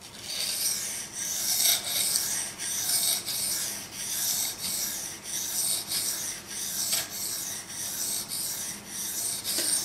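A Ka-Bar KA4065 Dozier knife blade is drawn across a Japanese water stone in a steady run of about a dozen rhythmic rasping strokes, close and fairly quiet, with no talk.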